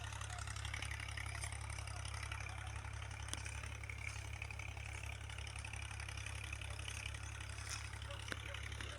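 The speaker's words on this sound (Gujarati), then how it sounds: "તો ટ્રેક્ટર ચાલુ જ છે આપણા ખેતરમાં" A tractor engine runs steadily in a farm field, a low, even drone that stays faint and distant for the whole stretch.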